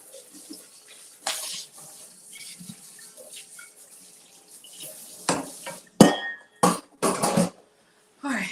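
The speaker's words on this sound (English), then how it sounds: "let's just go ahead and rinse this out" Water running from a tap as a bowl is rinsed at a kitchen sink, a quiet trickle with soft knocks, followed by several louder sloshing splashes and clatters near the end.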